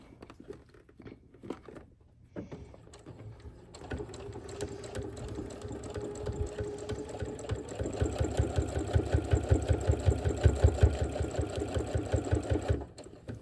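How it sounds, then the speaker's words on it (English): A sewing machine stitches a quarter-inch seam through the layered binding of a quilt, starting with a few short bursts before running steadily, its rapid mechanical chatter growing louder before stopping. "just finish sewing that 1/4 inch seam as you were, making sure to capture all of your layers"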